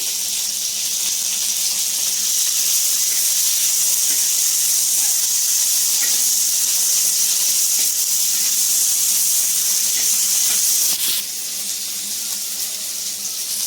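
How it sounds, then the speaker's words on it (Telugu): Tomato pieces frying in oil in a pan, a loud, close, continuous hiss and sizzle that holds steady for a long stretch before easing slightly near the end, with no voices. "ఇప్పుడు టమోటా కూడా సేమ్ కొద్దిగా ఆయిల్ వేయాలా. పచ్చి వాసన పోయేంత వరకు బాగా వేగాలి."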